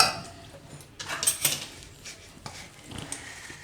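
Spoon scraping and clinking in a pot while jaggery is stirred into a red chili pickle, a few soft irregular metallic knocks and scrapes, fairly quiet with no talk.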